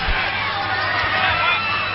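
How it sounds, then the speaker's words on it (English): Stadium crowd at the 2002 World Lacrosse Championship final between the USA and Canada, a broad wash of cheering and whooping with a commentator talking over it. "Crowd getting involved."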